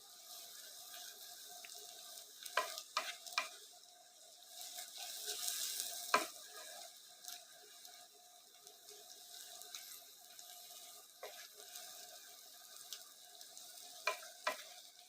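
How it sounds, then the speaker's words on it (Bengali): Onions frying in ghee in a pan until reddish, with steady soft sizzling and repeated scraping stir strokes, plus a few sharper clinks, close by and without talk. "এটাকে একটুখানি লালচে করে ভাজছি একটু ঘি এবং পেঁয়াজের মিশে একটা সুন্দর গন্ধ বেরোবে"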